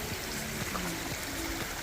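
A small stream at a water source along a hiking trail runs with a steady, soft trickle and gurgle, continuous and close, with no voices.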